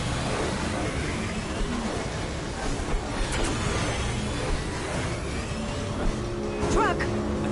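A taxi car drives in Mass Effect Legendary Edition, its engine a steady motor roar with passing whooshes, continuing under game sounds throughout.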